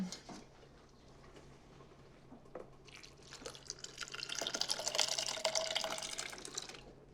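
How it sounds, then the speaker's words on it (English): Cooked pinto beans with their cooking liquid are poured into a blender in a kitchen, a wet splashing and gurgling pour that starts soft and builds louder over several seconds, with no talking. "add the pinto beans right into the blender. I'm just gonna pour it all."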